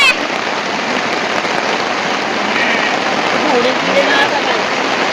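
Heavy rain pours down on sheep in the open in a dense, steady hiss that stays constant throughout, with faint bird calls and distant voices barely audible beneath it.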